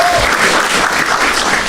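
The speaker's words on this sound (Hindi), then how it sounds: "एक बार ताली बजाएंगे यार दोनों के लिए बहुत जम से।" Loud, dense audience applause for two people on a comedy show, a continuous burst of many hands clapping close up with no talk.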